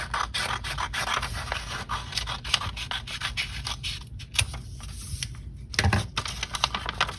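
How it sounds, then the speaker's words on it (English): Scissors cut through folded paper strips for a St. Patrick's Day shamrock craft, producing close, rapid scratchy snips and rustles in an irregular rhythm with no talking. "So I'm just going to cut these strips out."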